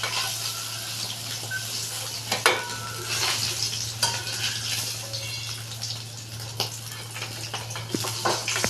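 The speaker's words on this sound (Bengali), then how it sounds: "দেখুন মাছ ভাজা হয়ে গেছে, আমি ভাজা মাছটা এবার উঠিয়ে দিই।" Rohu fish frying in oil in a home kitchen pan, a continuous close sizzle with occasional scrapes and clinks of a utensil as pieces are moved and lifted out, no voices.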